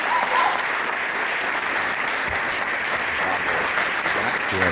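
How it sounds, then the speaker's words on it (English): An audience claps steadily in a hall for a former chief of surgery taking the stage, a continuous even roar of many hands at moderate loudness, lasting the whole span with faint voices beneath. "Give him a big round of applause, Dr. Horst"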